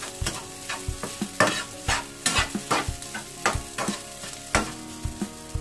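Cup noodles fried rice being stirred in a hot pan, a spatula scraping and clacking in a steady rhythm of sharp strokes over a continuous close sizzle of frying.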